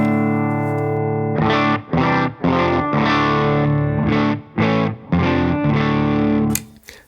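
Heavily distorted electric guitar played through a REVV G3 Anniversary pedal used as a preamp into an amp's power section, loud sustained chords broken by short gaps, with a bit of noise at the end.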